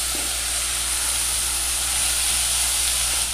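Ground beef sizzling in a frying pan with garlic and onion, a steady close hiss of frying with no talk.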